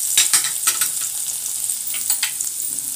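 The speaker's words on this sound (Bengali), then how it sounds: "আদার পিস গুলো দিয়ে দিলাম।" Thinly sliced ginger pieces fry in hot oil in a pan for chicken ginger, a steady close sizzle broken by several scraping stirs early on and again near the end.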